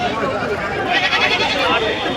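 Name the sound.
sheep lambs bleating at a livestock market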